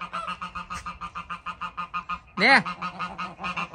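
A goose honks close by in a rapid, steady series of about a dozen and a half nasal calls, then one louder, longer honk, while a person says a single brief word.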